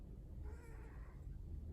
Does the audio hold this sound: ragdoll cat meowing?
yes